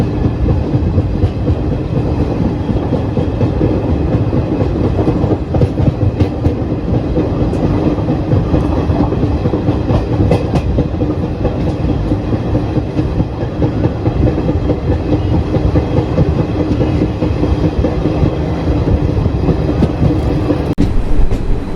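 The Garib Rath Express runs at speed past Khodiyar station on the Ahmedabad–Delhi line, a loud steady rumble with rhythmic clickety-clack of wheels over rail joints, heard from inside a coach with no talk.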